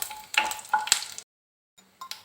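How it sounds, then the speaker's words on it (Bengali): A tempering of bay leaf, dried chilli and whole cumin frying in oil, heard as short close bursts of sizzling and stirring with a silent gap near the end; no speech. "এবার ফোড়নটাকে একটু ভেজে নেব।"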